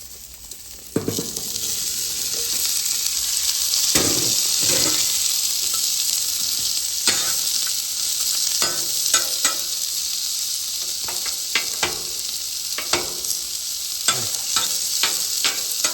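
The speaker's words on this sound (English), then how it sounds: "throw a little vegetable oil on, and throw our veggies on" Vegetables fry in vegetable oil on a hibachi griddle, a steady loud sizzle broken by repeated scraping and stirring clatters from a spatula, with no talking.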